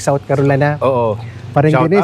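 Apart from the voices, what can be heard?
None of the usual background noises is heard.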